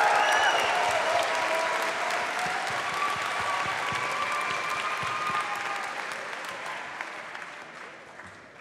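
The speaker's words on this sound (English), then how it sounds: "So give yourselves a round of applause." A large convention crowd at MineCon 2012 bursts into sustained applause, dense clapping filling the hall and slowly tapering toward the end.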